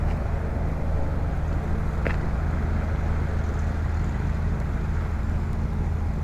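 A 2017 Polaris Slingshot three-wheeler cruises along with a steady, loud low engine drone and wind rumble, heard from the driver's seat with no talk over it.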